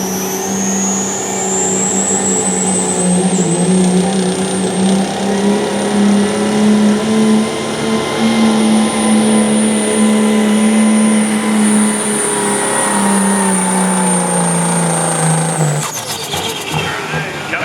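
A pulling truck roars steadily at full throttle down the track at a southeastern Ohio truck and tractor pull, loud and sustained for about sixteen seconds before the engine cuts off abruptly near the end.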